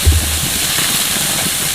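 Burgers sizzle and steam on a grill turned up about as hot as it will go, a steady loud broadband hiss with a low rumble underneath, constant for the whole moment with no talking.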